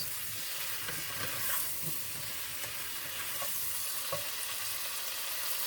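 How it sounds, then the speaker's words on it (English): Fresh chopped onion frying in a pan and stirred by hand for a zucchini and squash parmesan dish, a steady broad sizzle with a few soft scraping clicks of the spoon, close and continuous with no voices. "fresh onion, put that in there, give it a stir"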